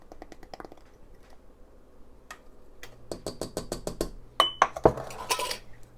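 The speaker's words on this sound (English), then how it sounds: "Whisk that around into the melted butter." Cream of soup master mix being whisked into melted butter in a pan. Sparse light clinks give way to a quick, rhythmic run of close metallic taps and scrapes, ending in a few louder knocks.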